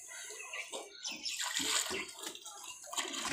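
Water is poured and splashed nearby while a pet pigeon's drinking area is washed, making a faint, uneven run of gushing and splattering sounds.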